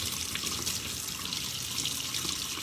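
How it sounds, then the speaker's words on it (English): Tap water runs steadily over a stencil as etching cream is rinsed off by hand, a continuous close splashing wash with no talking. "I am literally rinsing the stencil so you guys can see."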